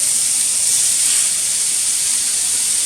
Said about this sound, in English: So just like the chunks, into the frying pan they go.